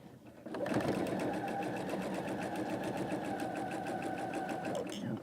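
A sewing machine stitches a seam in one steady, continuous run of close, even mechanical whirring that lasts about four seconds and stops abruptly, with no talk over it.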